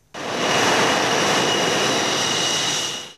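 A MiG-29 fighter jet runs an engine test on the ground before flight. A loud, continuous roar starts abruptly, holds steady throughout, then cuts off.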